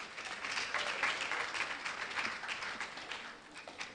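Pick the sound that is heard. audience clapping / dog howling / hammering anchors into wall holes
audience clapping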